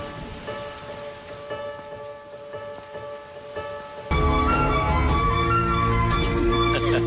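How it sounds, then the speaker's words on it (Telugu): Heavy rain pouring in Pune during a monsoon downpour, a dense steady hiss under soft background music that suddenly gets louder and fuller partway through, with no speech. "సరిగ్గా అప్పుడు పూణేలో పెద్ద వర్షం."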